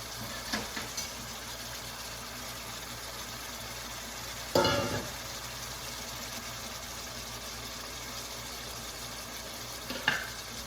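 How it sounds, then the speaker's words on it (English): Goat meat cooking in a hot pan on a stovetop burner, a steady broad sizzle running throughout with a few louder clatters of stirring or utensil contact. "And then we can let the meat cook."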